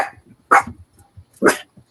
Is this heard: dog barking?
yes